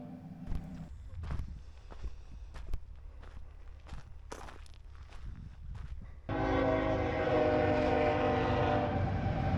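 Footsteps crunch nearby, then a train on a main line through a small western Oklahoma town rumbles in loudly with a sustained horn-like tone droning over the passing cars.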